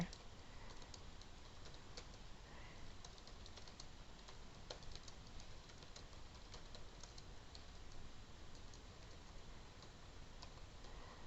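Faint computer keyboard typing clicks along irregularly under a steady background hiss, soft taps scattered throughout.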